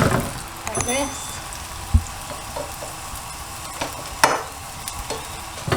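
A cheese paratha fries in a pan, making a soft steady sizzle broken by a few sharp scrapes and clinks of a utensil.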